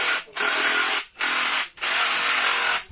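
Profi tec PVR1620BL cordless angle impact wrench tightening a bolt, three loud rattling bursts of hammering buzz separated by brief pauses, close and alone without talk.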